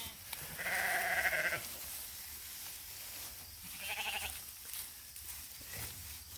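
Sheep bleat in a pasture of tall grass, two loud drawn-out bleats close by with quiet outdoor ambience between them.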